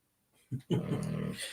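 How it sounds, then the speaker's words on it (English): A dog growls in a low, rumbling, breathy rasp that rises after a brief pause, close and fairly loud, carrying on without a break for about a second. "my dog sounds like Darth Vader"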